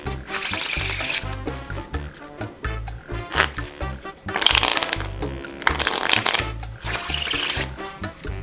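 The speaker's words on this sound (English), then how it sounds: "we take any deck of cards and shuffle it as we know how." A deck of playing cards is shuffled repeatedly, giving bursts of crisp riffling and flicking that come close and fairly loud, with brief pauses between passes and no one talking.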